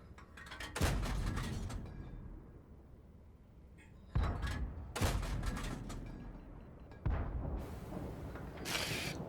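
Tank cannon fire in a tank-destroyer video game, several sharp booming shots spaced a few seconds apart, each with a rolling decay and mechanical clatter, fairly quiet with no talking.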